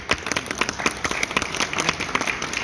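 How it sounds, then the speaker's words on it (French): An awards ceremony audience applauds the nominees. Dense, steady clapping comes from a large crowd, loud and continuous, with no talk over it. "On peut les applaudir"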